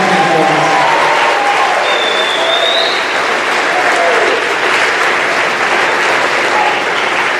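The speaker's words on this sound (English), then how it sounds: "let's give the class of 2023 a round of applause" Sustained, loud applause from a large audience at the Wheaton College athletics awards ceremony, honoring the class of 2023, a dense wash of clapping running the full length with a faint whistle rising partway through.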